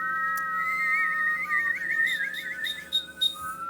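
Someone whistles a high, wavering tune while breathing in, with a rapid trill in the middle, close and alone, ending in a few breathy notes.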